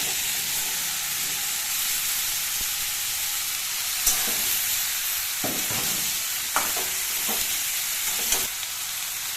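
Sliced ridge gourd sizzles with shrimp in a hot pan, a steady bright frying hiss broken by a few sharp crackles and stirring scrapes, close and continuous with no voices.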